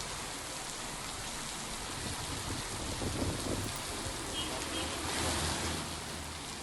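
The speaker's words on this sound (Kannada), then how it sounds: "ಧಾರಾಕಾರ ಮಳೆಗೆ ರಸ್ತೆ ತುಂಬೆಲ್ಲ ನೀರು ನುಗ್ಗಿರುವಂಥದ್ದು" A heavy downpour around Anekal near Bengaluru roars continuously, thick and loud, swelling slightly at moments, with no one speaking.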